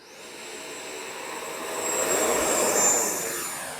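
An 80mm electric ducted-fan RC F-18 Blue Angels model jet by Horizon Hobby, running on a 6s lipo, spools up for takeoff from concrete with flaps deployed. A steady high whine and rushing roar swell and peak, then ease slightly.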